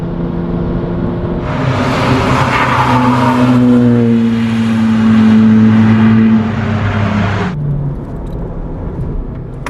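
A 280bhp SEAT Leon Cupra with a DSG gearbox drives hard on a track, its engine note loud and close, rising and holding in a strong drone before easing off, with a brief tyre-scrub hiss partway through.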